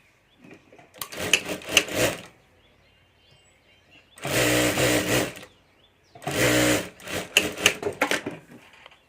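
An electric sewing machine stitches a pocket strip on a homemade purse in three loud bursts of rapid buzzing separated by quiet pauses, with handling clatter between runs.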